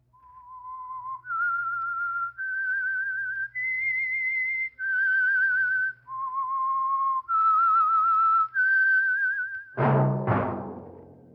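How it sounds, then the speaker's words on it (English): A whistled signature melody for the Signal Oil Program radio drama The Whistler, a lone eerie whistle moving through sustained stepping notes over a faint low hum, ending in a sudden resonant orchestral sting. "That whistle is your signal for the Signal Oil Program, The Whistler."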